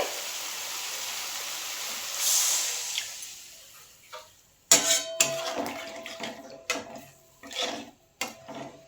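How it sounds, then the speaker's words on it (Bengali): Water poured into a pan of simmering Rupchanda fish curry, first a steady hissing stream, then irregular clinks and sloshing bursts as a pan and utensil are handled, close and fairly loud with no talking. "আমি জল দিয়ে দেবো এর মধ্যে"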